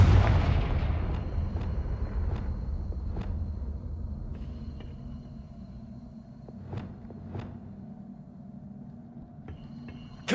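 Confringo fire spells in the game Hogwarts Legacy go off as a heavy explosive blast, then a run of sharp, separate bursts and booms spaced a second or two apart over a low rumble.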